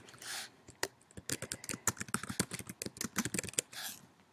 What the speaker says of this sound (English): then I could type comments here